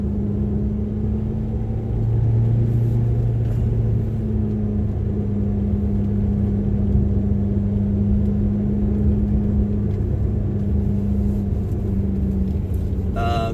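A 2006 Ferrari F430 Berlinetta with F1 paddle transmission cruising on back roads, its engine a steady droning hum heard from inside the cabin, holding a constant note with a slight rise in pitch partway through.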